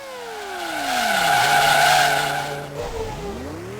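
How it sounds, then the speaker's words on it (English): A race car at the 2023 ARWS German GP locks its tyres under heavy braking, giving a loud, sustained skidding squeal with a falling pitch, then a brief second tyre screech as the car recovers. "That is a major lockup."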